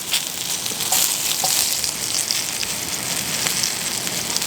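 Onions sizzling in a hot frying pan while cooking a creamy salsa verde, a steady bright crackling hiss with scattered pops, close and even throughout, no voices.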